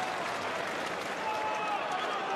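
Darts crowd at a 2008 Mardle versus Taylor match applauding with a steady, dense wash of clapping and cheering that holds throughout, with a commentator's voice faintly present.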